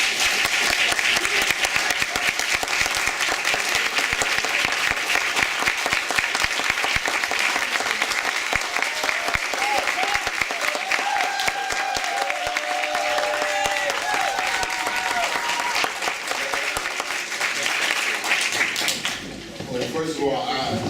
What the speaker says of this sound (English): please let's have a warm welcome and a round of applause for our keynote speaker, Mr. Chuck D.